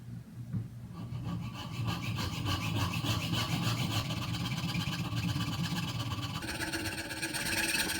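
A hand saw cutting through a wooden pole for a medieval flail, steady rapid back-and-forth rasping strokes, close and continuous with no speech.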